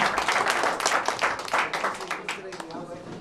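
Quiz show audience applauds a contestant with a burst of brisk clapping that fades over a few seconds, with voices mixed in.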